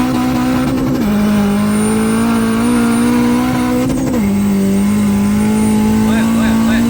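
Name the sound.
K24 engine car running and revving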